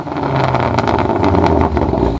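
A car with a manual gearbox climbs a steep mountain road in first and second gear near Sudhan Gali, Azad Kashmir, its engine droning loud and steady throughout with a strained, continuous rumble.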